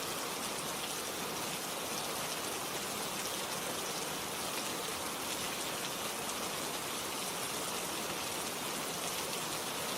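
Steady, dense rainfall in a backyard, an even hiss of drops pattering without pause, soft and continuous with no voices.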